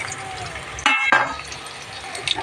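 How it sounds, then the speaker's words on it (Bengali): Chopped bitter gourd hits hot oil with browned onions and green chilli, a soft constant sizzle broken by a sharp burst of spattering and a couple of stirring scrapes. "এবারে আমি উচ্ছে কুচিগুলো দিয়ে দেবো।"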